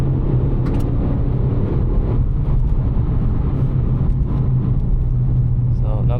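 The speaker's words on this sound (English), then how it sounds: "got a little bit of a gearbox whine, you can hear it." Suzuki Swift Sport cabin while driving: a steady, loud low engine and road drone carries a faint thin gearbox whine, continuous throughout with no pauses.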